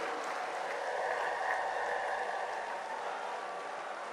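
Dense, steady applause from a large crowd at a political rally in Lucknow, sustained without letup at moderate level, a continuous wash of clapping with no distinct individual claps.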